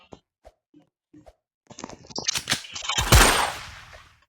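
After a few soft taps and clicks, a rapid burst of video game gunfire erupts, loud and close, ending in one heavy blast that fades out.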